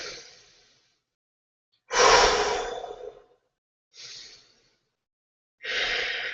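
Slow, deep breaths during a beginner yoga pose, four audible inhales and exhales close to the microphone, each a breathy rush separated by short quiet gaps.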